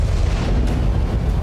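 A loud, sustained rumbling blast with a dense, roaring low end, reported as an explosion raising a mushroom cloud in news footage from the Israel–Hamas conflict, heard alone without voices.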